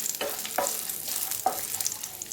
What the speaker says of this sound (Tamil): கோல்டன் ப்ரௌன் வரணும், வறுத்து எடுத்துக்கலாம்.